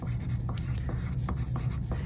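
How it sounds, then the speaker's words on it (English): A pencil scratches across paper in quick, repeated strokes, close and fairly loud, with a soft steady rustle between the marks and no talking. "you will go ahead and write your name and class code and pencil on the back"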